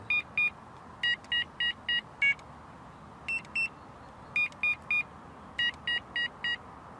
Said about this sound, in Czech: Pomocí tlačítka T měníme na příposlechu tón.